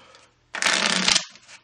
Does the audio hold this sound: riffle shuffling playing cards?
yes